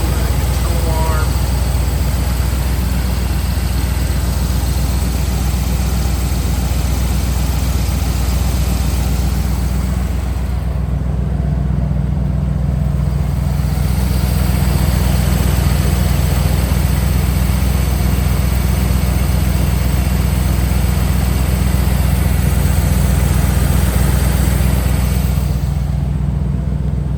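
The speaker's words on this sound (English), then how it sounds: "Engine sounds really good." A Chevrolet Corvette 454 V8 with a 4-speed manual idles in a loud, steady low rumble that runs unbroken throughout, with someone talking over it at times.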